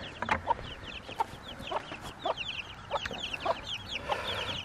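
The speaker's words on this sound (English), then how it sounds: "we have all the seven chicks, so that's good. I'll move the chicken coop forward later after Mama calms down" Chickens clucking in a backyard coop with a mother hen and seven chicks, a string of short, bright clucks and squawks repeating close by over a faint outdoor background, no talking.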